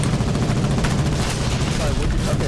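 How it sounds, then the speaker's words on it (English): Dense video-game battle gunfire rattles continuously and loudly, overlapping bursts and booms with a voice talking over the din. "It's so loud and so much gunfire."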